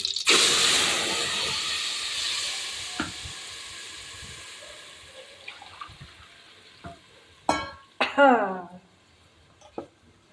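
Ground masala paste seasoned with cumin and turmeric hits a hot pan for Maharashtrian masvadi. A loud, hissing sizzle bursts out at once and slowly fades, followed by a few sharp clatters and scrapes near the end.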